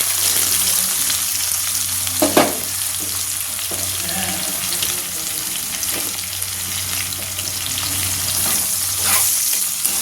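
Onions and bay leaf frying in hot oil, a loud, steady sizzle running throughout with a few distinct spatula scrapes and knocks as they are stirred.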